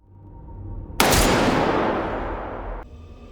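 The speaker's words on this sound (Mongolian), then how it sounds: "Улмаар хара багтай удирдагч ирэн Гихоныг баатар болж тоглосны үр дүнгээд түүний өмнө хамгийн сайн найз Жүмбэг нь бууддаг." A gunshot from Squid Game season 2 lands as one sudden, loud blast after a brief lead-in. A long, booming tail fades over the next two seconds, then cuts off abruptly.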